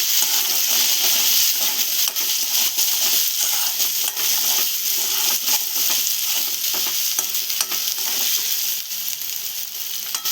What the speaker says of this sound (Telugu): పసుపు వేసుకొని ఇట్లా కలుపుకోవాలి మంచిగా